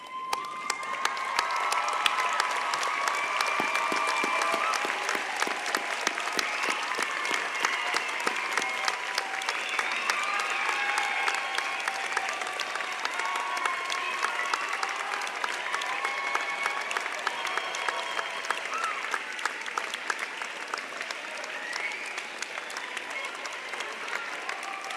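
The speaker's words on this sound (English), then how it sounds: "give those who helped you a big round of applause" Sustained audience applause at a fine arts graduation ceremony, dense and steady clapping from a large crowd throughout, fairly loud and continuous with no talk over it.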